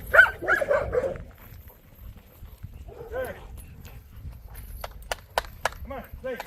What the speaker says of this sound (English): These are German Shepherds.